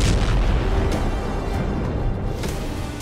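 A Russian Pantsir S-1 air defense system explodes near Bakhmut in a loud, sustained boom with heavy rumbling and a few sharp bursts, filling the whole stretch without speech.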